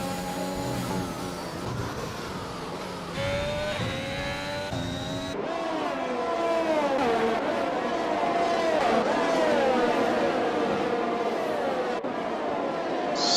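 Race cars in the F1 2021 video game scream around the Belgium circuit in an esports race, with several high, revving engines close together and shifting pitch, plus faint talk at moments.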